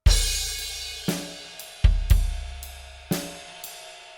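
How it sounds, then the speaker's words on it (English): Drum kit from a 2018 recording, a ride cymbal on quarter notes with crash hits, sounding as a handful of sharp, bright, decaying strikes at uneven spacing, loud and close with no voices. "the drums are quarter note ride, kind of crash drums in the 2018 version"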